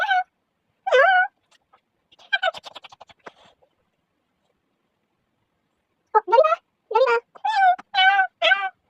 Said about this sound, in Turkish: Bu kedi niye burada?